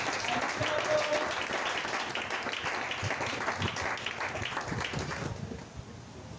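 A church congregation at a French-speaking worship service claps and cheers for Jesus, a dense, sustained wash of applause that carries steadily before thinning out near the end.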